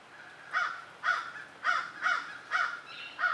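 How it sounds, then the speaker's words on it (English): Birds in Florida at sunset give six harsh, crow-like caws in a fairly regular series, clear and moderately close, with no talking. "I think the birds are telling us the sun is going down."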